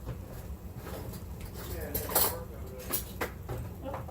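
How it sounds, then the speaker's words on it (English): Sausages being poked and turned over in a pan, heard as a few close clinks and scrapes of a utensil against the pan, with a person speaking around them. "I might as well go ahead and flip over these sausages"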